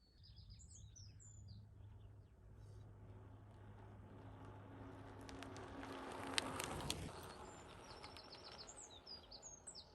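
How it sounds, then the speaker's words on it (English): Birds chirp and trill faintly in the distance over a steady outdoor hum, with a brief louder rustle midway, beside Hadrian's Wall on a calm, windless day. "Birds singing in the background."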